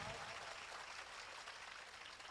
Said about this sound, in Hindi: मैं सबसे चाहूँगा कि आप सब तालियों से उनका स्वागत करें।